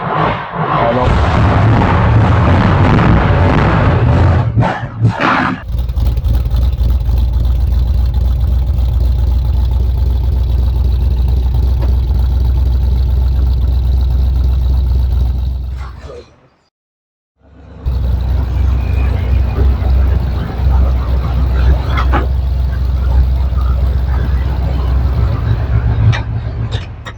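A 1981 Dodge W150 truck engine runs after a fuel pump replacement, a loud, close, steady idle rumble that cuts out for about a second, then picks back up and keeps running.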